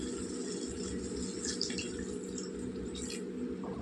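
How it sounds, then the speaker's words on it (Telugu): Water runs and splashes steadily into a cooking pot for a tamarind curry of brinjal and drumsticks, a continuous close pouring sound with a faint drip-like trickle on top. "ఇప్పుడు మనకి ఎంత పులుసు కావో అన్ని నీళ్ళు వేసుకుందాం"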